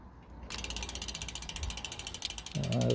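A bicycle drive train clicks in a fast, even ratchet rhythm as the pedals are cranked round during a gear adjustment, close and clear, ending in a louder grinding rattle.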